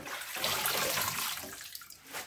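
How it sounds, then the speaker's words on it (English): Water from a kitchen tap runs into a sink over mustard greens being washed, a steady rushing splash that dips briefly before surging again, close by and alone. "And then we'll run some more clean water"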